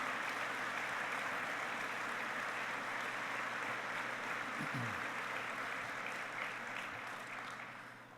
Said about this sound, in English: So please, a round of applause for all of our combat aviators